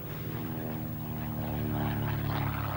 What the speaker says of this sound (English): the 165 horsepower Warner 7-cylinder radial engine, which was its original equipment